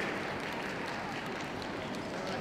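Steady applause from an indoor audience at the UK Toydog dog show, a dense, even patter of many hands clapping at close range without pause.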